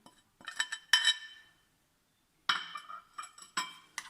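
A spoon clinks against a bowl while spices are stirred into yogurt for a chicken curry, two bursts of quick scraping and tapping separated by a short pause, close and clear.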